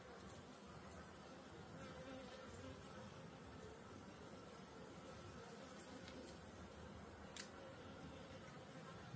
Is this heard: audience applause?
no